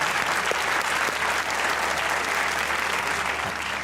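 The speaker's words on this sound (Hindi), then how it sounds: "वाह, ताली होनी चाहिए" A talk show studio audience breaks into steady, full applause, a loud continuous patter of many hands that holds evenly from start to finish without talk.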